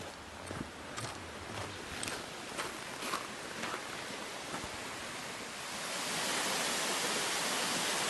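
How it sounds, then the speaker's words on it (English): A waterfall pours steadily at its top on a cold winter day, a dense broadband rush that fills the scene and swells louder toward the end, with a few faint knocks underneath. "This is the top of the waterfall"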